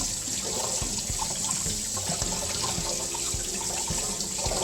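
Tap water runs steadily into a sink as salt is rinsed off saltfish by hand, a continuous close splashing with occasional clunks and handling noises.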